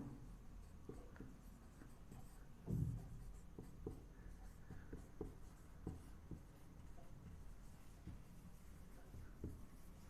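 Soft, intermittent scratching and tapping of writing on a board during a Hindi lesson on the Supreme Court, quiet strokes spread across the stretch with one slightly louder cluster early on.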